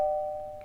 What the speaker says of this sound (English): stand behind the door for 5 seconds and ring the doorbell